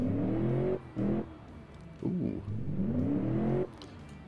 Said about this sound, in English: 175 horsepower, that's very healthy for an engine this size and from this time period.